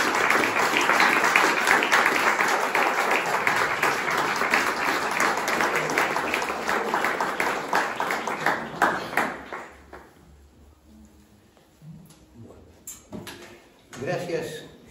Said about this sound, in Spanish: Y pido entonces para el señor Di Marco un fuertísimo aplauso.